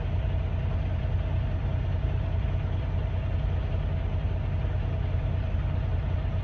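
A semi truck diesel engine runs steadily from inside the cab, a constant low rumble with a faint tonal hum above it, unchanging throughout with no talk.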